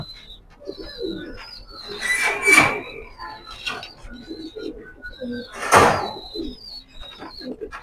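A pair of racing Maxi pigeons coo nearby in soft throaty rolling phrases, two louder bursts of wing flutter or rustling break in, with some faint squeaks between.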